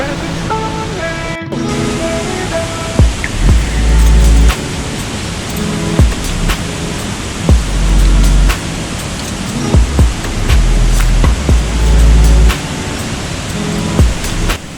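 A waterfall near Rishikesh, reached by a short easy trek, roars as a steady, loud broadband rush of falling water at close range, with occasional deeper surges and thumps mixed into the continuous wash.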